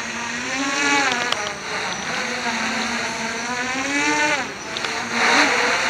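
Armattan V-Tail quadcopter drone flying in still air, no wind, giving a steady buzzing whine that rises and falls in pitch as it maneuvers, fairly close and continuous for the whole stretch.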